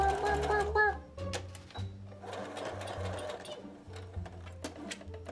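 A sewing machine stitches a jacket in short bursts of rapid mechanical whirring and clicking, broken by pauses and small clunks, while a person talks over it.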